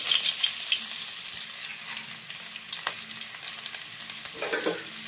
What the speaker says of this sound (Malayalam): കടുക് പൊട്ടിയിരിക്കുന്ന ഉള്ളി ഇടാൻ പോവുക.